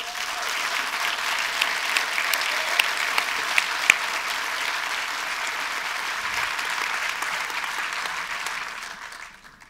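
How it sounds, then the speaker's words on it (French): Sustained, dense audience applause at a film festival opening ceremony, steady and loud for several seconds before fading out at the end. "on peut les applaudir s'il vous plaît"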